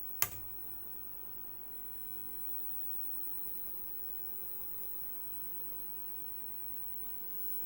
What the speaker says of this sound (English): It's come to life. I can hear a nice hiss through the speaker.